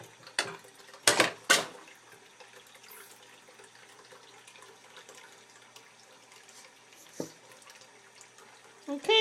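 Faucet water runs softly into a sink as a young girl on a step stool rinses her hands, with a few louder splashes near the start and someone speaking over the steady trickle.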